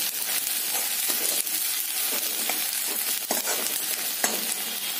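Onion browning in a pan for paneer tikka masala, a steady close sizzle broken by occasional sharp crackles and stirring clicks, with no talking over it.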